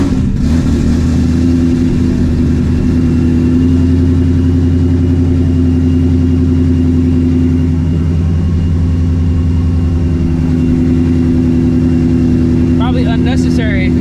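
The supercharged ESS G3R 900HP Shelby GT350 engine starts up and settles into a loud, steady, deep idle right up close, holding a constant rumble throughout.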